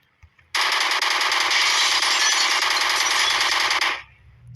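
Sustained automatic gunfire in the Indian Bike Driving 3D video game, one loud unbroken burst of rapid shots lasting over three seconds, alone and close.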